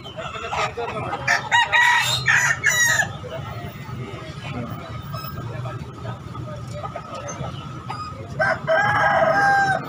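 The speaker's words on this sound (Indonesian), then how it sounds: "Ini ayam bulbi." Roosters crow loudly nearby at a chicken market in Makassar, one call near the start and another near the end, over a steady murmur of market noise and voices.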